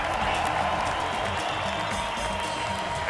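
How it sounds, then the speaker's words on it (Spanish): A festival audience at a radio show applauds, and the clapping fills the room as a dense, even roar that never breaks. "Pero más aplausos, por favor."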